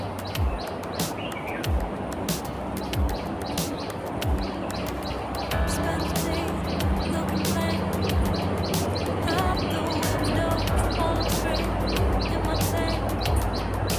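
Pigeons coo and flutter close by amid steady outdoor street bustle in Hong Kong, with repeated sharp clicks and taps scattered throughout.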